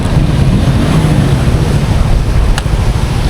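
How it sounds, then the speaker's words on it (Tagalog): Loud, rushing ocean surf with heavy wind buffeting the microphone, a continuous roar of breaking waves close by. "ang laki ng alon"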